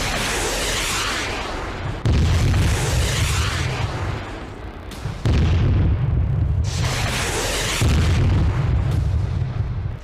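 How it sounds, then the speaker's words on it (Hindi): Heavy explosions from Israeli bombardment in southern Lebanon, a series of loud, rumbling blasts arriving every few seconds, each swelling into a long, dense roar. "दक्षिणी लेबनान में इजरायल ने भीषण बमबारी की है।"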